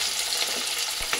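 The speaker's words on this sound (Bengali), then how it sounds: "আলু আর গাজরটা লাল লাল করে ভেজে নেব।" Potatoes and carrots fry in mustard oil in a wok with a steady, dense sizzle that stays close and continuous, and there is no talking.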